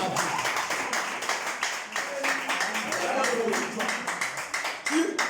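A church congregation claps hands in a quick, steady rhythm, with a voice speaking or chanting over the clapping.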